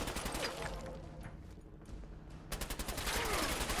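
Video game gunfire in Fallout 4: a dense fusillade of rapid shots, with a steadier burst of automatic fire picking up toward the end, loud and continuous with no talk over it.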